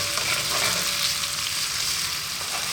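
Cumin, mustard seeds, garlic and ginger frying in a pan over medium-high heat, a loud dense continuous sizzle with no voices.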